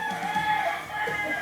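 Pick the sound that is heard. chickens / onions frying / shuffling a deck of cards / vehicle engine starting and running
chickens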